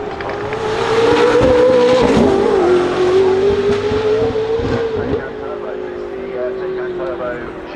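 A Turbo GT climbs the hill at the Goodwood Festival of Speed 2024, its engine roaring loud and steady close by with a brief tire squeal, while a commentator talks over it.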